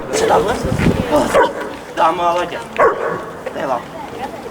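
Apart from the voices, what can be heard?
service dog barking during a training demonstration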